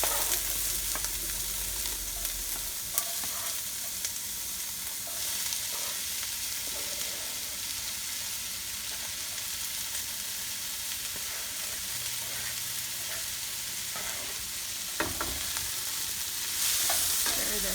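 Vegetables for a stuffing saute in a hot wok sprayed with oil, giving a steady, close sizzle and frying hiss with occasional stirring scrapes throughout.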